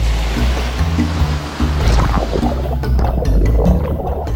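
Ocean surf surges and washes ashore on a Madagascar beach where turtle hatchlings head to the sea, a loud, continuous rushing of breaking waves with no talk.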